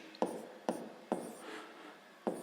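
A pen scratches out a calculation on paper in four short strokes, each starting with a tap, close and quiet with no talk.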